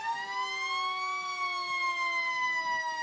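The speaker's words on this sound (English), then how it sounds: "ambulance, the one you never want to have to call, but they're there when we need them" An ambulance siren in a Loyalty Day parade, a steady wailing tone that glides slowly up and down, moderately loud and fairly close, with no talking over it.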